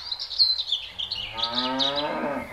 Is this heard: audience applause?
no